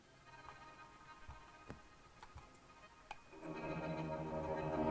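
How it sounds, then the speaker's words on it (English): A few faint taps and scrapes, then a sustained bowed string tone swells in, rich and buzzing like a cello, heard alone without talk. "It's a bowed guitar."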